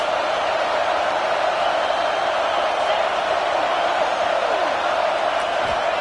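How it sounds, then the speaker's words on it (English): A stadium crowd at a Wisconsin vs Michigan college football game sends up a steady, dense roar that holds evenly throughout, with no commentary over it. "This crowd trying to make life miserable for this offense."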